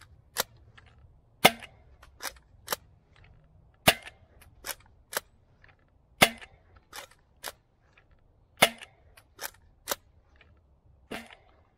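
A DZP Mk 2 toy blaster fires Adventure Force Tactical Strike short darts in a series of about fifteen sharp, snappy pops at irregular intervals, close and crisp against a quiet background.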